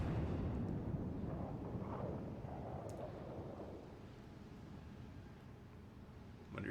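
Torpedoes slam into an enemy warship in World of Warships Legends, giving a deep rumbling explosion that swells at the start and then fades into a long, low roar, with a fresh thump at the end.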